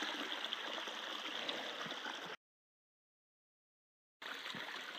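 Gold-prospecting creek with gravel bed, its water flowing in a steady close rush and gurgle, cut by a brief silent gap before resuming.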